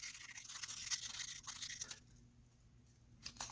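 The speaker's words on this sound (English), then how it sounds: "I'll generally start with 400 or 600 grit, kind of wrap the paper around it, squish it around it with your thumb behind the sandpaper" Fine 400 to 600 grit sandpaper rubbed by hand over a firearm component, giving quick close scratchy strokes that stop for about a second before a brief final rasp.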